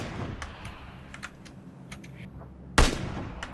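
Gunfire in PlayerUnknown's Battlegrounds: several faint, distant single shots crack at irregular intervals, then one loud close shot bursts near the end.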